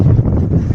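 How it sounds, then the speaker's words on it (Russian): Strong wind buffets the microphone outdoors during an attempt to light a campfire with a flint striker, a loud, low, continuous roaring rumble with no pauses. "Ветер, конечно, жесткий."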